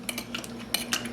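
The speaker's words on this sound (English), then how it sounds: "Now I'm going to mash it again to mix that up." A muddler mashes about two tablespoons of sugar in a glass for a Brazilian caipirinha, giving a handful of sharp clinks and scrapes spaced irregularly over a soft background.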